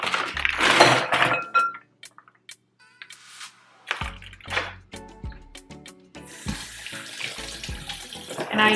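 Cold tap water gushes from a kitchen faucet into a bowl for thawing shrimp. It comes in loud bursts at the start and end, with clinks and handling noises between.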